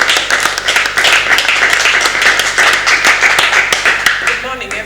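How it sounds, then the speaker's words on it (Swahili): An audience at a church seminar claps together in a dense, sustained round of applause, loud and close, filling the whole moment. "Tupigie makofi."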